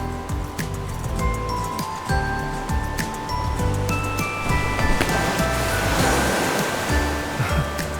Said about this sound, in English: The waves here.